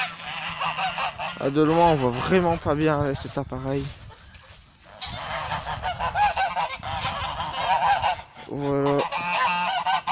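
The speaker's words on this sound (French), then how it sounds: "Il y a les oies." Geese on a French farm, white and Toulouse breeds, honk loudly in repeated nasal bursts, nearby and overlapping, while a person speaks between the calls.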